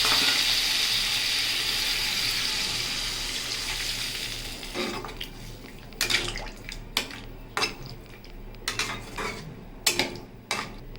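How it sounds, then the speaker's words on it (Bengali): Water poured into a cooking pot while making a rohu fish curry: a steady, close rush of pouring for several seconds, then sharp metallic clanks and knocks of the pot and utensils at an uneven rhythm. "এবার দিয়ে দেবো পরিমাণ মতো জল।"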